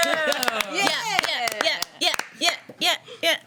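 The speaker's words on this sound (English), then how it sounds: "I've trained my players to applaud when I say things" Tabletop role-playing game players clap together in quick, scattered bursts, mixed with excited whoops and overlapping voices close to the microphone.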